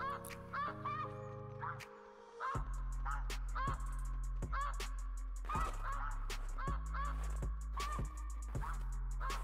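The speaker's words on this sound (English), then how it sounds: "Friggin' geese are loud," Geese honk repeatedly and loudly at close range, a busy overlapping chorus of sharp nasal calls over a low rumbling background during an outdoor hunt.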